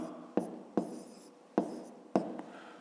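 Close, quiet sound of numbers being written by hand with a pen on paper during school maths work: four distinct strokes, each a sharp scratch that fades off.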